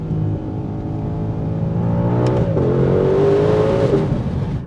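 A 2020 Ford Shelby GT500 accelerates hard on the road, its engine tone climbing steadily in pitch with a loud, continuous droning roar heard from inside the car.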